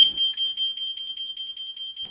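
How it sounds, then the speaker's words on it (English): The sounders on a C-Tec CFP conventional fire alarm panel resound with a loud, high electronic tone. It pulses rapidly and steadily for about two seconds, alone and close. "If for any reason you need to manually reactivate the alarm sounders, press the Silence Resound Sounders button once again."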